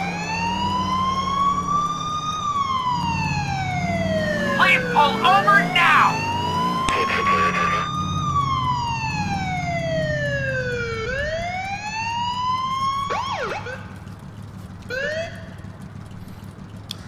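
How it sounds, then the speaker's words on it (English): A police car siren in the game LCPDFR wails loud and close for the whole stretch, rising and falling in long sweeps before switching to faster yelps, with an engine rumbling underneath and a voice speaking briefly over it. "so we're gonna go ahead and hit our siren."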